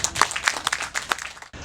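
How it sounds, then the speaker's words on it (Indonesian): Brief burst of clapping and applause from an assembled crowd, honoring Pertamina at an ISPS Code port security exercise in Tanjung Priok, steady for about a second and a half before cutting off abruptly. "Tepuk tangan untuk Pertamina sini."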